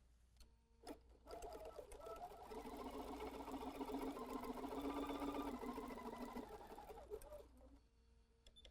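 A sewing machine runs a face mask seam in one steady continuous stretch of about six seconds, quiet and even, starting and stopping cleanly.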